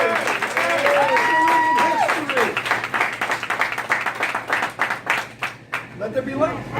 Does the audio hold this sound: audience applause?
yes